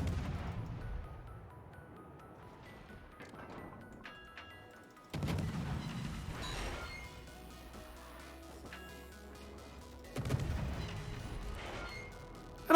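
Naval gunfire from the British Tier VIII destroyer HMS Cossack in World of Warships, heavy booming salvos at the start and again at two later points, each followed by rumbling decay over faint game ambience and ticking.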